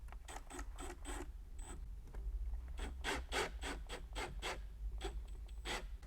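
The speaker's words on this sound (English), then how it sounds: "I'll get those screws in to really secure it" Screws driven into a golf cart taillight on a Club Car Tempo, a series of short rhythmic gritty driver bursts, quiet and close, with brief pauses between groups, no talk.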